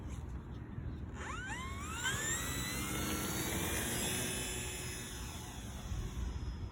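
An E-Flite Air Tractor 1.5 m RC model plane takes off, its electric motor whining up in rising pitch and holding a steady high drone as it climbs away, loud and continuous.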